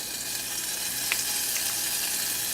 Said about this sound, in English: we're going to make a roux in this small little saucepan